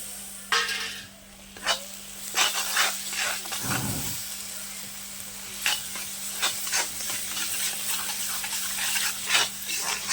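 Chopped tomatoes sizzle steadily frying in a pan, broken by clattery stirring scrapes and a brief low thump partway through; no one speaks.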